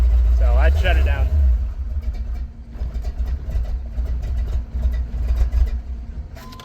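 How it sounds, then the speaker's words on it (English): A 388 stroker V8 in a solid-axle-swapped S10 Blazer idles roughly at very low rpm, a loud, uneven rumbling lope up close, with people talking over it near the start. "It's trying to idle at like 200."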